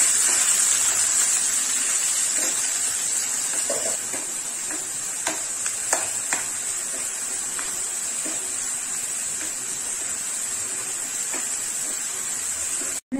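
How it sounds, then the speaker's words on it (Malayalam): Shallots, tomatoes, ginger, garlic and green chillies sauté in a pan with a steady, bright sizzle. Faint scrapes and clinks of stirring come through now and then. "10 ചുവന്നുള്ളി ചെറിയത്, തക്കാളിപ്പഴം 2 തക്കാളിപ്പഴം, ഇഞ്ചി വെളുത്തുള്ളി ചെറുത്ത്, 2 പച്ചമുളക് ഉള്ളിയത് എന്നിവ ഇട്ട് നന്നായി വഴറ്റുക."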